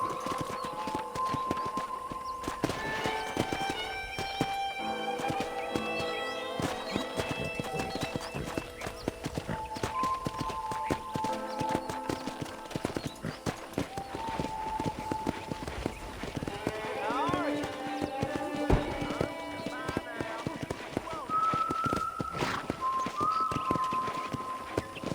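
A horse trots at a steady pace across a ranch property in the video game Red Dead Redemption, its hooves clip-clopping continuously and close. Tonal game sounds and people talking run over the hoofbeats.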